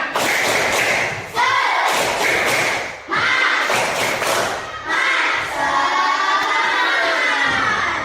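Schoolchildren perform a rhythmic spirit clap in a classroom, loud bursts of clapping and thumping in patterned groups with short pauses between, mixed with children chanting and shouting along.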